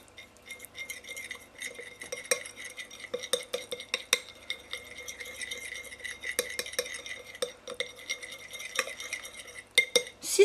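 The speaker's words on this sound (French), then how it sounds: "Avec ma petite cuillère, je vais mélanger les deux." A small spoon stirs raspberry coulis into a fake blood mixture, giving repeated light metallic clinks and scrapes against a bowl across about ten seconds, close and fairly quiet with no talking.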